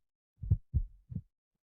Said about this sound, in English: The heartbeat sound comes from valves opening and closing.